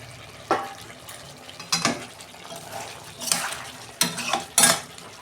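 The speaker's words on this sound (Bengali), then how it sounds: "এই যে ঢাকনাটা খুলছি বন্ধুরা" A lid comes off a cooking pot of Bihari-style chicken: several metallic clanks and scrapes spaced a second or so apart, with a soft sizzle and rattling of cookware in between.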